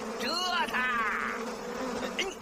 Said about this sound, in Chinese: 小蜜蜂，来蛰他！